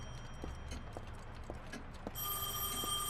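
In the video game Heavy Rain, a telephone rings steadily in a room, with faint footsteps clopping underneath at first before the ringing grows brighter and louder midway.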